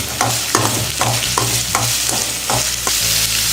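Onions sautéing in oil with mustard seeds, a little cumin and green chillies, loud close sizzling with rhythmic spatula scrapes roughly every half second and no talking.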